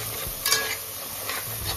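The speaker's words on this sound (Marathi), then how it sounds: "हा बघा आता मस्त पैकी मसाला तेलात भाजून घ्यायचा." Masala roasting in hot oil with mustard seeds, cumin and curry leaves for amti, a continuous close sizzling hiss broken by a couple of brief stirring scrapes.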